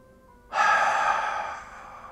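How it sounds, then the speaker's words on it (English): A single deep, audible breath drawn in through the mouth during a guided meditation, rising suddenly and holding steady as the lungs fill, close and alone with no talking. "take a deep breath. Fill up those lungs."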